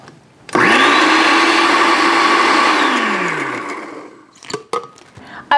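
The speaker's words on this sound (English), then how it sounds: "After 30 seconds in your blender, you're going to add 1/3 cup sugar to that and keep on blending." A blender mixing a holiday drink with added sugar whirs loudly for a few seconds, its motor pitch sliding down as it winds to a stop, followed by clinks and clatter.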